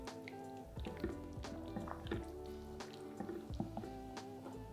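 Double cream is stirred into a lasagne sauce in a pot, giving faint, wet squelching and soft dripping sounds in an irregular rhythm, close up and quiet.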